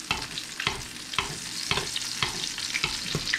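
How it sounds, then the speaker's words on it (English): Salmon fillet searing in a hot pan while being basted, a steady sizzle broken by rhythmic scraping strokes about every half second as the fat is spooned over, close and clear with no talking. "So we're just gonna keep basting our salmon."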